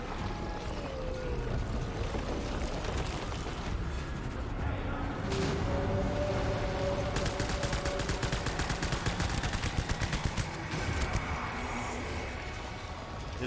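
Assault rifle gunfire in the video game Death Stranding: rapid, sharp bursts of shots in the middle stretch over a steady, rumbling bed of game noise.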